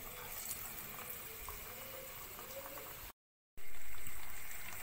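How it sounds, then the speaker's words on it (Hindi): Eggplant and potato slices dipped in gram-flour batter deep-fry in hot oil with a steady bubbling sizzle, briefly dropping out, then returning louder and slowly fading. "बैगन और आलू मैंने बेसन में डिप करके वन बाय वन ऑयल में डाल दिए हैं और अब ये डीप फ्राई हो रहे हैं"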